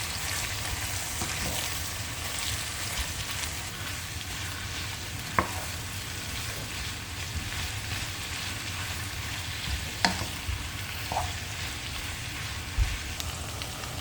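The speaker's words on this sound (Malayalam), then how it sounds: "ഇനി നമുക്കിത് നല്ല ബ്രൗൺ കളറാവുന്നത് വരെ ഒന്ന് വഴറ്റിയെടുക്കണം." Onions sautéing in a pan for a chicken roast, a steady soft sizzle and crackle running throughout with a few faint clinks of stirring, no talking.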